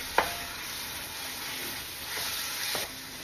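Onion sizzles in a large wok for pansit bihon, a soft steady frying hiss broken by a few light scrapes of a spatula, close and quiet with no voices.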